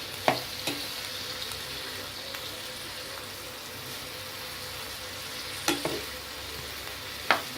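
Chopped tomatoes frying in oil over medium heat in a pan for pickle, a steady close sizzle throughout, broken by a few sharp scrapes and knocks of a spoon stirring.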